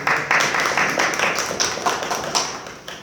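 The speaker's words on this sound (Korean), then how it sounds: "큰 박수 부탁드리겠습니다." An audience at a civic forum panel discussion applauds a panelist with a steady, close patter of many hands that gradually tapers off over a few seconds.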